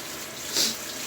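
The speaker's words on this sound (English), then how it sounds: "And as you see, guys, the water is pouring in." Water rushing into an LG washing machine drum as it fills, a steady broadband hiss with a brief louder surge midway, no talking.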